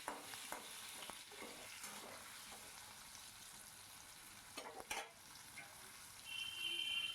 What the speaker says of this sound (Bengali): আলুটাকে এবার নুন হলুদ দিয়ে সুন্দর করে ওপর নিচ নাড়িয়ে চাড়িয়ে নেব